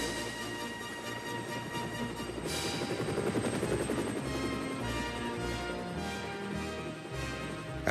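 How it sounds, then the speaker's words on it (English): A cartoon helicopter sound effect from the Thomas & Friends children's series: a loud, steady whirring drone that runs unbroken for about eight seconds, blended with music and with no talking. "There, ready for action, was Harold the helicopter."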